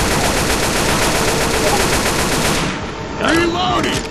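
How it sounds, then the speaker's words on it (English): Mounted machine gun firing in the zombie game Left 4 Dead, a loud continuous rattle of rapid rounds that stops partway through, followed by brief game sounds. "I'll get on that machine gun."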